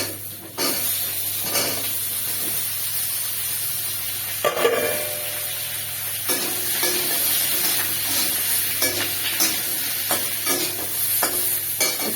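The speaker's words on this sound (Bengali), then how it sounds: "এবার সবজিগুলো একা একা সবগুলো একসাথে ভেজে নেব" Mixed vegetables frying and being stirred in a pan, a steady close sizzle and hiss with intermittent scraping of the spatula throughout, no talking.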